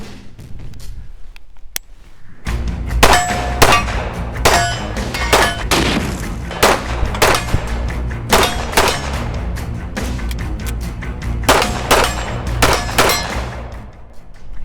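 Several sharp shots from a Wilson Combat pistol chambered in 45 ACP with a flat wire recoil spring, fired in a steady string of loud cracks with ringing clangs, likely steel targets, after a brief quiet start.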